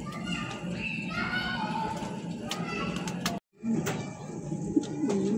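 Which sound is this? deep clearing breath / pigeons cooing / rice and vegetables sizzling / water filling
pigeons cooing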